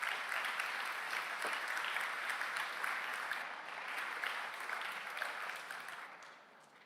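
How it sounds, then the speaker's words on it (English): Sustained audience applause at a security conference, a dense, even wash of many hands clapping at moderate distance, no voices, tapering slightly toward the end. "Applause."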